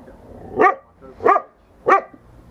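A dog gives three sharp, evenly spaced barks, close and loud, with quiet gaps between them.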